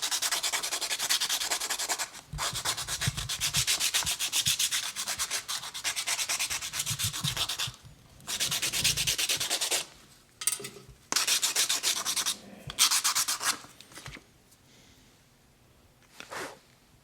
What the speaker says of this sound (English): I need to check first to make sure it's fitting in this properly before I stop sanding.